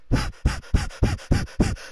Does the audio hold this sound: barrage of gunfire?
no